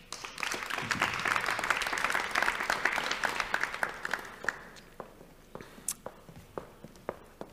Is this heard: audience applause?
yes